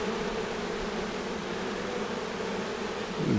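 A large swarm of honeybees taken down from a spruce and now crawling into a new hive, giving a steady, dense, close buzzing hum that holds throughout and swells slightly near the end, with no voices.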